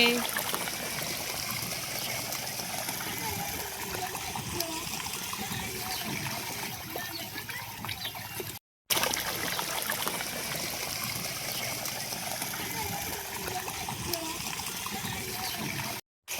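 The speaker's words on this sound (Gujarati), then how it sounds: "આ છે મારી મમ્મી પાણી ભરે છે" Water streams steadily into containers at a household tap, a continuous rushing trickle with faint voices in the background.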